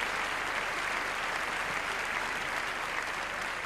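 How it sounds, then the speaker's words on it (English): A large Eurovision Song Contest audience in 1993 gives continuous, even applause, a thick, unbroken wall of clapping at steady loudness throughout, with no voices. "Yeah, they're all applauding"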